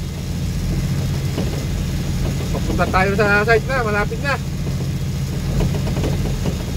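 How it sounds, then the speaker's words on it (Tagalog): Truck engine running steadily while driving over a rough, rutted site road in the rain, a constant low droning rumble, with someone talking over it and a brief melodic horn-like tone in the middle. "Buti na lang, malakas pa yung truck natin."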